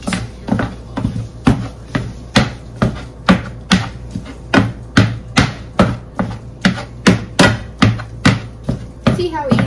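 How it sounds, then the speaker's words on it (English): Ground meat being broken up while cooking, heard as about twenty sharp, evenly spaced knocks and scrapes in a steady rhythm, loud and close with no talking. "now we gotta grind up this meat"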